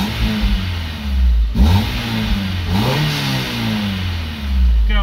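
A Honda S2000 Type S (AP2) with over 130,000 km runs close by as its engine is blipped, with several sharp revs rising and falling over a steady idle, loud and clear with no talk.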